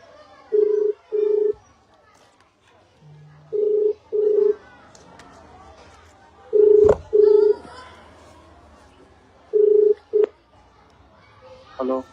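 A phone call rings out over a speakerphone as a repeating ring-back tone in paired bursts with steady gaps, and a short dial beep comes early. Faint voices and background chatter sit underneath.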